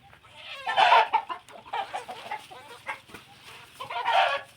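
A mother hen raising five chicks clucks repeatedly at close range, loud bursts of throaty calls in an uneven rhythm with brief pauses, heard alone without talk.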